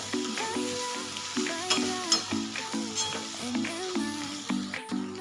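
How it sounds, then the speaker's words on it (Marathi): A spoon steadily stirs a dry roasted-papad vegetable mixture with chopped coriander in a frying pan, producing a regular rhythm of scraping strokes over a soft continuous sizzle, close and moderately loud, with no voices. "कट करून घेतलेली कोथिंबीर घालून घेऊया आणि मिक्स करून घेऊया"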